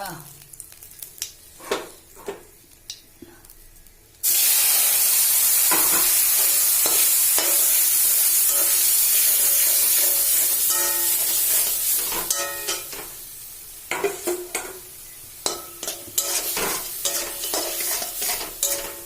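Cumin seeds hit hot oil for a lentil dish with bottle gourd greens, bursting into a loud, sudden hissing sizzle that holds steady and then fades, with utensil clatter before and after.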